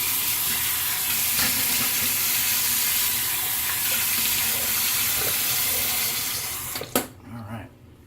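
A tap runs steadily into a sink as someone rinses off after a shave, a close hissing splash that stops abruptly near the end, followed by a few faint clunks.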